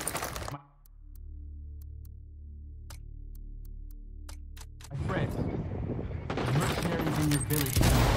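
Gunfire in Tom Clancy's Ghost Recon Wildlands: after a sudden cut, isolated sharp shots crack sparsely over a low rumble, then heavy rapid bursts erupt and build into loud sustained firing as voices shout over the combat.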